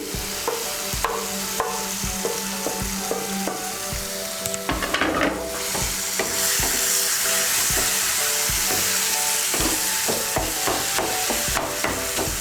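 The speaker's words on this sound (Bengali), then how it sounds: "ডিম সেদ্ধটা মিশিয়ে নিচ্ছি" Chopped boiled egg is stirred into mashed eggplant for Bengali begun bhorta, giving soft wet squelches and scraping clicks of a utensil against the bowl, repeated in an uneven rhythm, close and moderately loud.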